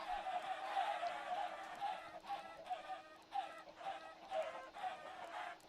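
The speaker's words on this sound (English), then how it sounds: "These chickens are not having a good time." Chickens cluck and crow in a video game while a poison attack slowly kills them, a dense, continuous flock chatter with repeated squawks at steady volume across the whole stretch.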